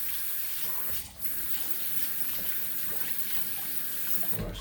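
Tap water runs steadily into a sink to rinse a harmonica mouthpiece, a Suzuki chromatic model, a constant close hiss with a brief dip near the one-second mark and a splashy change at the end.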